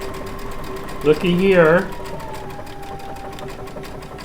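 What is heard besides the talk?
Baby Lock Altair sewing machine stitching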